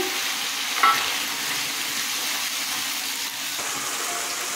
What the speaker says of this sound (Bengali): এবার সর্ষে বাটাটা দিয়ে দিলাম